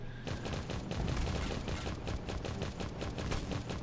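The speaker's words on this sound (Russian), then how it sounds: "Уничтожьте 5 танков супер выстрелами из пулемета." Machine-gun super shots from a tower firing at tanks in the game Steampunk Tower 2 rattle in a dense, steady burst of rapid repeated bangs lasting several seconds, with no talk.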